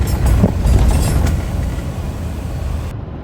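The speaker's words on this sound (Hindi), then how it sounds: "ये एंटेरियो का रेल का इंजन है, देखो यहाँ और इस स्टाइल के रेल के इंजन है," An Ontario rail locomotive train passing close by, a loud, broad, steady rumble with clattering wheels that cuts off sharply near the end.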